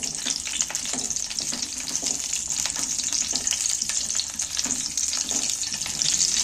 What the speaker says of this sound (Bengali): এইবার আমি পটলগুলো তুলে দিচ্ছি তেলের মধ্যে